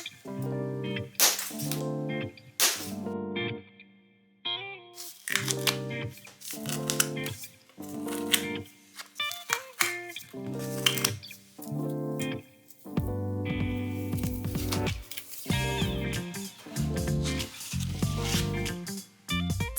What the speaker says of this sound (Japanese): まずは箱の梱包を解いていきます